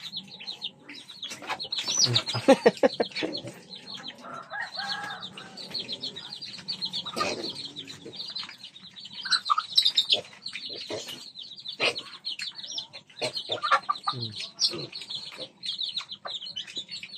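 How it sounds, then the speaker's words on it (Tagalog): Chickens and chicks cluck and call repeatedly, with high chirping chicks throughout and a few louder squawks, close by in an outdoor yard with fighting roosters. "Kasama pa yung mga sisiw at manok"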